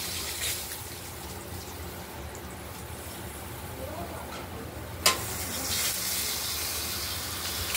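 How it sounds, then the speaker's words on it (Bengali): Pieces of katla fish fry in hot oil with a steady, even sizzle throughout, broken by a single sharp clink of a utensil partway through. "মাছগুলো ভাজা হয়ে গেছে,"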